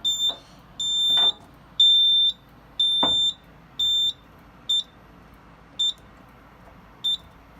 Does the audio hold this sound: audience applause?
no